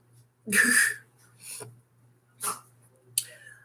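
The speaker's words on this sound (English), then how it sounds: "She's barking at a bird." A dog barks sharply at a bird a few times, one loud bark followed by several softer ones, with a low steady hum underneath.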